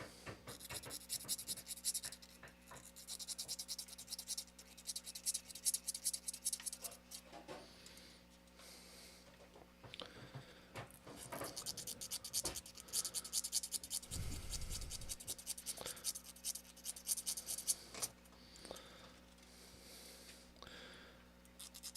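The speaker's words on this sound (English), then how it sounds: "I'm just going to smooth the ends, the cut ends of the fiber optics." Cut ends of fiber optic strands for Millennium Falcon model landing lights being smoothed, producing bursts of close, dry scratching and rubbing strokes with pauses between, no talk.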